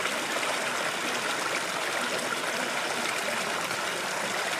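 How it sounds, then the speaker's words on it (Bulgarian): A clear mountain stream in the Rila Lakes area babbles steadily and loudly close by, a constant broadband rush of flowing water with no other sounds. "Поточето румоли и в момента се вижда чисто като момина сълза."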